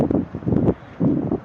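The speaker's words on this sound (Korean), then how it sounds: "바람이 조금 많이 불어요. 그래서 바람 소리가 들어갈 것 같습니다." Gusty outdoor wind buffets a gimbal camera's built-in microphone, producing low rumbling bursts that swell and drop in uneven waves across the short stretch, with no talking.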